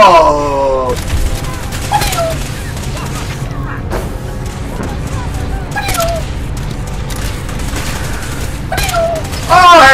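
Fallout 4 combat: a dense, continuous barrage of gunfire with repeated sharp shots and bursts across the whole stretch, loud and busy, mixed with in-game voices and someone talking over it.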